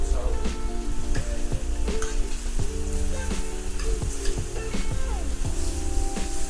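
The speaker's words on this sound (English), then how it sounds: "It's gonna fry up nicely in the pan." Pork belly fries loudly in a pan for a kimchi stir-fry, a constant dense sizzle broken by repeated clinks and scrapes of a utensil stirring.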